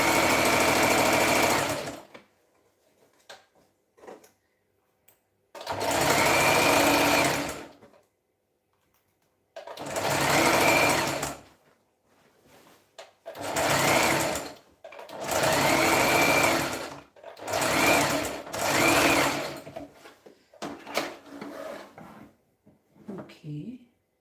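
A sewing machine stitches in repeated loud bursts of a few seconds each, with pauses and fabric handling between runs, as about a half-inch seam is sewn at close range.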